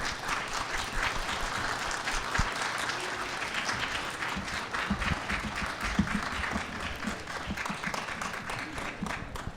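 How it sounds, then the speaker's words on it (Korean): Warm applause from a church congregation welcoming and congratulating a couple about to marry, a dense steady patter of many hands filling the room and continuing evenly throughout with no speech over it. "따뜻한 환영과 축하의 박수 보내주시면 감사하겠습니다"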